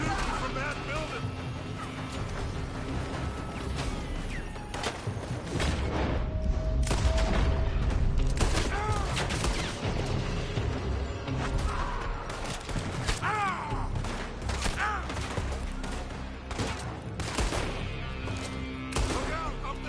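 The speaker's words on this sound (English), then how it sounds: "They're shooting from that building!" Gunfire and booming blasts from a Red Dead Redemption shootout, layered in a dense, loud mix with steady game noise and frequent shouted voices over the shots.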